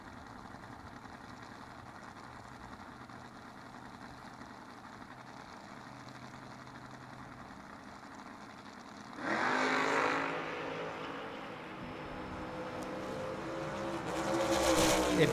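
Drag racing cars, including a Camaro, at a footbrake race idle with a low rumble before a loud engine roar surges up and then builds again toward the end.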